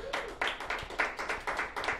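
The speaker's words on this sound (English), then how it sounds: "You guys got to give him a round of applause." Small talk-show audience clapping, a run of sharp, evenly spaced claps close by for a couple of seconds, without voices over it.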